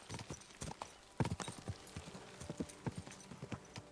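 Horse hooves clip-clop steadily on a road in the medieval video game Kingdom Come: Deliverance 2, a close, clear rhythm of hoofbeats with no talk over it.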